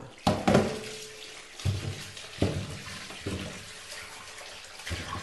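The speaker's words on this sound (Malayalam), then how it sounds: "ഒരു കഷ്ണം ഇഞ്ചി എടുത്തിട്ട് കഴുകുക" A piece of ginger is washed under a running kitchen tap, with water splashing into the sink in several uneven bursts, close and fairly loud, with no talk.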